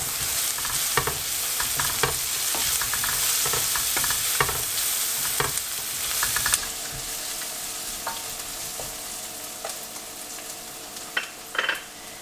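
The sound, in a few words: onions frying with cinnamon stick and bay leaves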